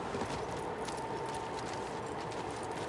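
Horse hooves clip-clop steadily in the Shadow of the Colossus video game, a continuous trotting patter heard close under a dense, noisy game soundscape with no talk.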